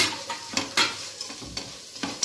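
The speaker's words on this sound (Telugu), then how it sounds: "ఇవన్నీ మసాలాలు వీటికి బాగా పట్టేంత వరకు ఫ్రై చేసుకున్నాం." Paneer frying with garam masala and spices in a pan, a close sizzle under repeated stirring scrapes that come in uneven bursts.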